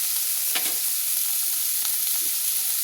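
Prawns fry in hot oil in a wok, giving a loud, steady sizzle throughout with a couple of brief stirring scrapes and no talk.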